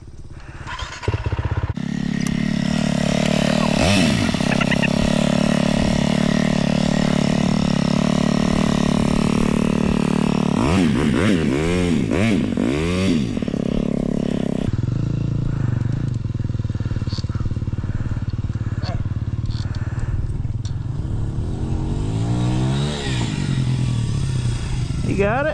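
Motorcycle ridden along a dirt trail at Twin Buttes, engine droning steadily and loudly close by with rising and falling revs, mixed with wind rush and clatter, while people talk over it.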